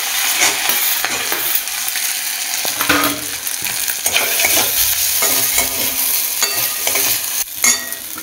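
Chicken pieces frying in a pan, a loud, close, continuous sizzle broken by repeated scraping and clinking stirs of a utensil against the pan.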